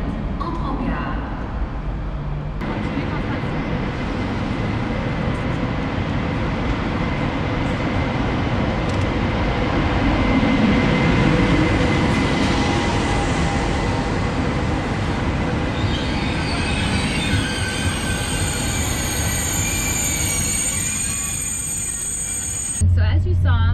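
A OUIGO train rolls through a French station, its steady rumble and clatter filling the scene up close, with wheels squealing toward the end and faint voices in the background.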